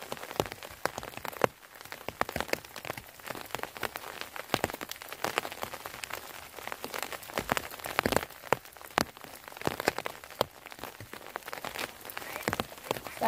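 Steady rain falls through a cold forest, a dense patter of drops striking leaves and ground with scattered louder taps close by, continuous and alone without voices.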